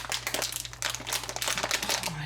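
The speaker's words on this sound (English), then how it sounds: "They also gave us some bacon bits in a little baggie here. Let me get this sucker open." A small plastic baggie of bacon bits crinkles and rustles continuously as it is handled and pulled at, up close, while goulash is being cooked.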